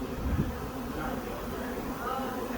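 Honey bees buzz in a dense, continuous drone around a swarm, close and steady, with faint talking mixed in.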